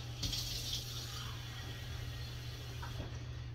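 Water streams steadily into a bowl for self-rising white cornmeal batter, a continuous soft pour and trickle heard up close with no talk over it.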